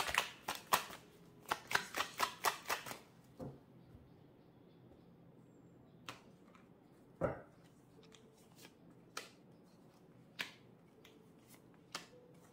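Tarot cards being shuffled by hand: a quick burst of crisp riffling clicks at the start, then scattered single card taps and snaps. The sounds are close and quiet, with no talking.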